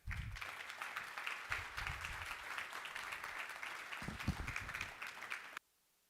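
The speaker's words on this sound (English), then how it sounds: "Let's have another round of applause." An audience at an annual meeting claps steadily and fairly evenly for about five and a half seconds, then the clapping cuts off abruptly into near silence.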